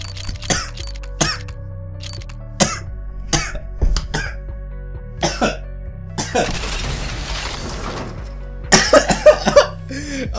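Someone coughs repeatedly at close range, sharp separate coughs spaced out at first, then a quick cluster of harsh coughs near the end.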